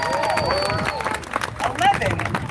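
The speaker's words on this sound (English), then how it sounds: "Give him a round of applause" A crowd claps and cheers at a live gathering, with the applause mixed into surrounding hubbub and voices and swelling briefly near the end.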